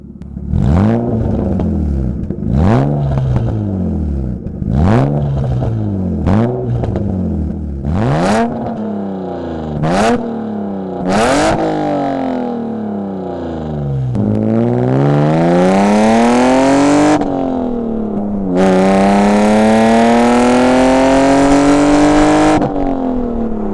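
A repaired BMW E36 engine revs up again and again in rapid bursts, each climb and fall sweeping in pitch, then settles into longer, higher sustained revs, loud and close.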